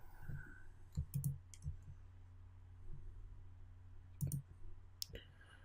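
A computer mouse clicks as a link is opened, giving a few sharp, close clicks spaced apart over a low background hum.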